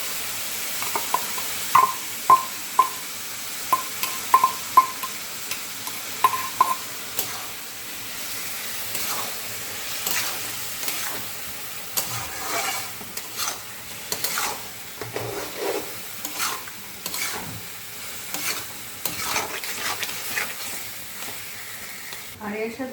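Ginger, garlic, green chili and tomato paste fries in a pot with mutton keema, giving a steady sizzle with repeated scraping stir strokes and a voice talking at times.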